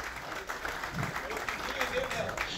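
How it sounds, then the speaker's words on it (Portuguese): Applause from a tech conference audience at WordCamp Rio, moderate and steady, with voices talking over the clapping. "Palmas para o Felipe Vinha"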